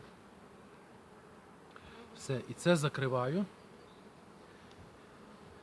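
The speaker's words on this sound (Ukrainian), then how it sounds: "Бджоли тут дуже багато." Steady honeybee buzzing hums under the whole clip at a hive used for queen rearing, with a short burst of nearby speech in the middle.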